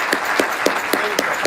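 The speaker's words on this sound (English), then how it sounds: "let's give him a big round of applause" An audience at a women's trailblazers program applauds, giving steady, dense clapping with a few louder individual claps standing out in a regular rhythm, heard alone without talk.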